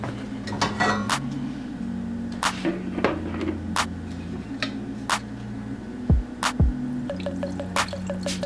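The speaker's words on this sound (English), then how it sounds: "so now that our drink is finished, I'm just going to strain this off" A lemon, orange, turmeric and ginger drink is strained, with sharp drips and clinks against a container repeating irregularly over a steady low background hum.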